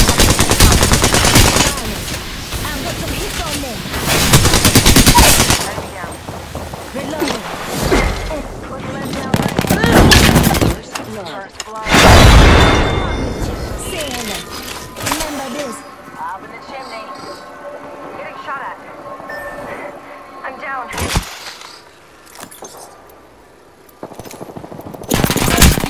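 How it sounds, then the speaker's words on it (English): Loud bursts of automatic gunfire and explosive booms rattle through a Mortal Kombat game scene, dense at first, then thinning into sparser shots, with a voice speaking over parts of the action. "opening fire. They spotted me."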